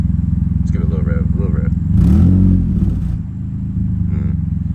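An Infiniti G35 with a newly fitted exhaust idles with a deep, steady rumble, then a single rev swells loud for about a second before it settles back to idle, with a voice talking faintly at the start.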